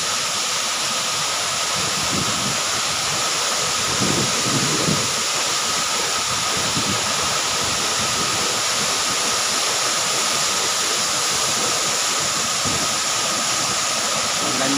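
Inambakan Falls pours in a constant, dense roar of falling water, loud and unbroken from start to finish, with no voices.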